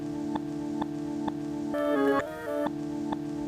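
A sustained, monotone synth loop plays in Ableton with a steady pulsing beat, and its pitch bends briefly down and up through subtle pitch-shifter automation before returning to the original drone.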